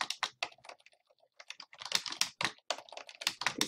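Keys clacking on a computer keyboard while a page is written in a website editor, a close, uneven run of rapid taps with brief pauses between words, no voices.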